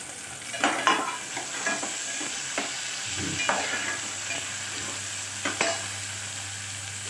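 Finely chopped tomato frying with already fried onion in a pan, a low steady sizzle broken by repeated scraping stirs of a spoon, close and clear with no talking.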